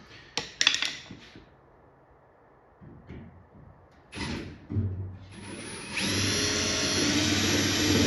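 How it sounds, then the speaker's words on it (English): A power drill re-drills a bottom hole on a homemade fuel pump and air tank project. Faint taps and handling noises come first, then short bursts and a steady drilling whine toward the end. "I just need to re-drill that bottom one."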